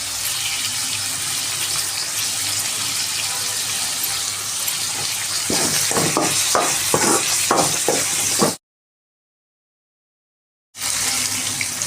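Dried chilli, coconut and curry leaves fry in a pan with onions, giving a loud continuous sizzle and a quick run of stirring scrapes, then a short silent gap before the sizzle resumes.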